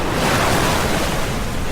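Ocean waves rolling in at high tide on Hikkaduwa beach: a loud, continuous roar of surf mixed with wind buffeting the microphone, with no talking.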